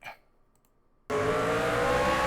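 Loud race car engines from the iRacing sim at Richmond burst in abruptly after a second of near silence, then hold a steady, dense roar from several cars to the end.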